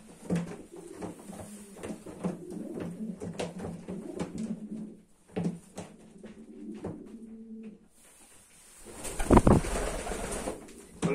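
Homing pigeons in a Polish racing loft give soft, low cooing in short repeated bursts, close and fairly quiet, with a louder rustling clatter toward the end.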